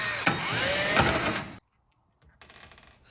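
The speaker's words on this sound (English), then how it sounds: "Next, we're gonna remove the stovetop held in by 3 screws." A power drill or driver whirs loudly for about a second and a half, backing out screws holding down the stovetop of a Whirlpool oven, then stops; after a pause, a softer rattling mechanical sound follows.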